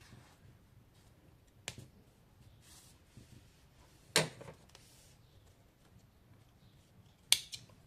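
Scissors cut thread on a doll sewn from raw cotton cloth, giving a few sharp, close snips spaced apart over quiet handling noise.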